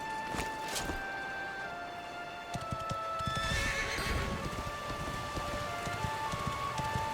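A horse in the video game Dragon Quest XI whinnies over a steady clip-clop of hooves, with rain-like hiss in the background and no speech.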